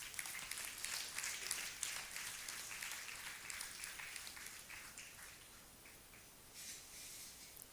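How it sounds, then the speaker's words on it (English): Faint applause from an Inner Wheel Club crowd, scattered clapping that slowly thins out and lingers softly in the distance. "Let's hear a big round of applause."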